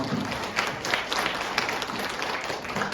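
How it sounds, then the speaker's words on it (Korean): Steady applause from a wedding crowd, dense clapping that holds at an even level for the whole stretch with no voices standing out. "다시 한번 박수 보내주시면 감사하겠습니다"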